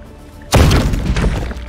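A robot fires a shot in the video game Warhammer 40,000: Chaos Gate - Daemonhunters: a single loud, sudden blast erupts and rumbles briefly, a heavy gunshot-like boom that trails off into a noisy decay.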